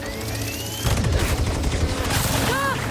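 Gunfire in the game Marvel's Spider-Man 2: a rapid, dense burst of shots with booming low impacts that keeps going for about two seconds, with a brief rising whine near the end.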